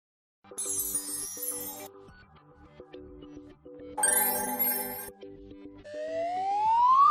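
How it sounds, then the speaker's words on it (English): An ambulance siren rings out in repeated electronic wailing tones with high chirps and a final rising sweep, loud and close, with no talking. "Ambulance."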